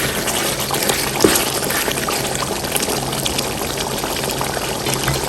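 Water poured into a pot of beef biryani, a steady, fairly quiet liquid rush and splash running the whole length with one brief clink early on.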